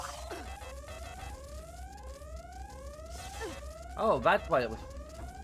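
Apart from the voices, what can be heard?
alarm in video game Deus Ex: Invisible War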